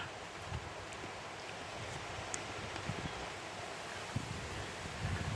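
Strong outdoor wind roars steadily across the microphone during a bushcraft cooking session, a constant broad rush with faint gusts and occasional small knocks.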